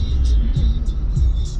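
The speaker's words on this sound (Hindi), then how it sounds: "कह रहे हैं बहुत धीरे चलाओ गाड़ी और हम बहुत धीरे चला रहे हैं" A car creeps along slowly, heard from inside as a steady, low engine and road rumble with a few soft bumps and faint higher hiss over the top.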